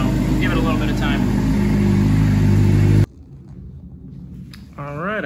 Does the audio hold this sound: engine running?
yes